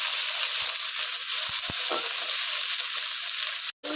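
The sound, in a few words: frying and stirring flat beans in a pan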